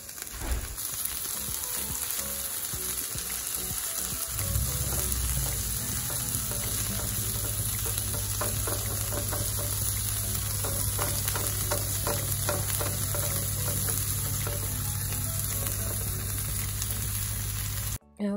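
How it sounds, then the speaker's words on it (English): Food sizzles and crackles steadily in a hot pan, loud and close, with a continuous frying hiss that runs throughout and no speech. "So I also wanted to let you hear the sizzling."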